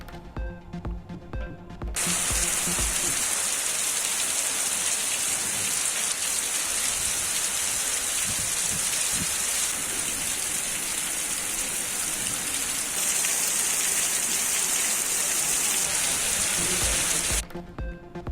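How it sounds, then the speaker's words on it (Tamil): Heavy summer rain pours down in Sivaganga as a dense, steady roar of drops striking surfaces, loud and continuous without a break, framed at the start and end by a brief moment of quieter sound. "சிவகங்கையில் திடீரென வெளுத்து வாங்கிய கோடை மழை."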